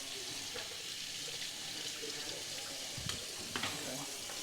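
Water running from a kitchen tap during a cooking class, a steady hissing stream with light clatter of items being rinsed in the sink, moderately close.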